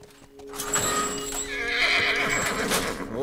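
In the video game The Last of Us, a horse lets out a loud, wavering whinny over the clip-clop of its hooves, close and clear with no talk over it.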